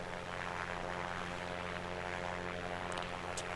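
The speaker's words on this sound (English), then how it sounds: "Listening to the airplane motor, man, it's just the ultimate white noise." Steady propeller engine drone of a Piper Comanche in the A2A flight simulator, a continuous even hum holding level with no talk over it.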